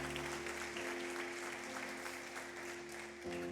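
Congregation applauding during a Portuguese-language evening celebration church service, a steady dense wash of clapping throughout with a sustained musical tone underneath.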